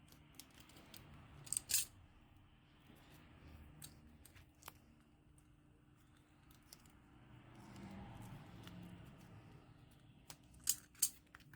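Scissors snipping off the excess adhesive strip on a Motorola E5 Plus back cover, a few faint, sharp close clicks scattered over a very quiet background.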